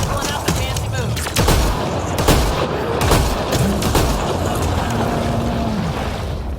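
Game gunfire in Mass Effect Andromeda rings out as sharp, repeated shots and bursts over rumbling combat ambience, several cracks spread across the scene at close range.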